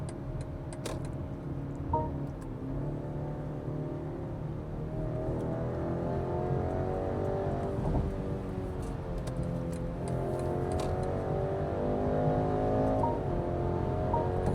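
A BMW X3 30 xDrive heard from inside as it accelerates past the speed limit, a steady engine drone rising in pitch through gear changes, close and continuous under road noise.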